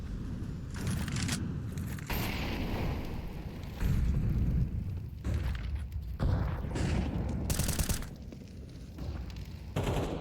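Counter-Strike match play in a pro esports game, with a heavy grenade blast followed by loud, rapid bursts of gunfire and repeated rattling shots, filling the clip at close range.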